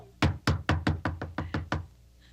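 Eight firm, evenly spaced knocks on a door, loud and close with hollow thuds, followed by a brief quiet tail.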